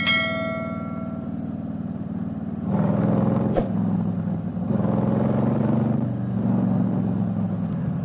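A Harley-Davidson motorcycle engine idles with a deep steady rumble, then revs up twice in strong surges with a brief sharp click between them, loud and close throughout while it warms up.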